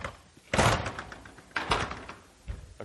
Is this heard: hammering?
no